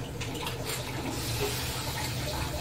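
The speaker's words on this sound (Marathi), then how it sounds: "आता इकडे पप्पा मिक्स करताय पाणी." Water runs steadily into a pot as it is added and mixed for a homemade veg chili soup, a continuous splashing pour close by with no talk over it.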